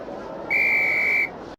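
A referee's whistle in the Harry Potter and the Philosopher's Stone PS1 video game gives one steady, shrill blast of under a second over quiet game background.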